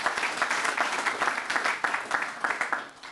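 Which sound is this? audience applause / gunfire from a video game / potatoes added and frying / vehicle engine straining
audience applause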